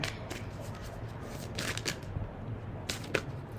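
Tarot cards are shuffled close by in a quiet room, a series of soft riffling bursts and light papery slaps coming in uneven bunches, with no talking.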